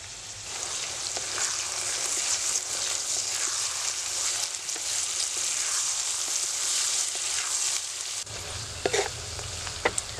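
Steady sizzling of beans and carrots frying in a hot pan for fried rice, continuous and close, with a few clinks of a utensil near the end.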